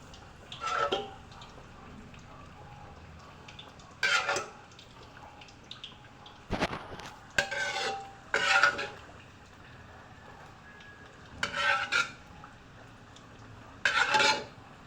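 A spoon clinks and scrapes against a cooking pot while sauce is stirred into pork bagnet, in several short separate bursts with quiet gaps between them.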